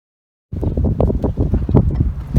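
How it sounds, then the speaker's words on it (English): Loud, close wind buffeting rumbles against the microphone after a brief silence, gusting unevenly throughout. "assuming the wind doesn't make too much noise"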